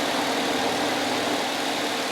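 A 3.8 liter V6 in a 2001 Chrysler Town & Country LX AWD idles with a steady, even broadband hum and no talk over it.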